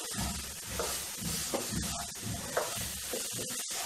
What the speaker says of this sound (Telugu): ఇంకా బాగా ఫ్రై అవ్వాలి.